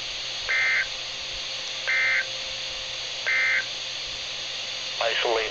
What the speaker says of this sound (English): this has only been a test of the National Weather Service's radio warning alarm